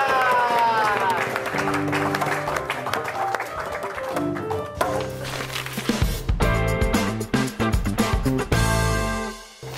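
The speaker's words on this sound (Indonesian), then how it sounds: "Beri tepuk tangan yang meriah untuk Felix Seda." A stand-up comedy audience cheers and applauds as a comedian is introduced. The clapping and crowd noise stay steady and loud, mixed with music.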